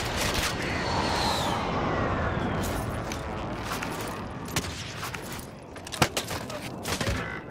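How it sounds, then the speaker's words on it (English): Gunfire from a Stoner weapon in a shooter video game crackles in rapid bursts, with sharper isolated shots toward the end over a busy, noisy backdrop. "They're shooting at me."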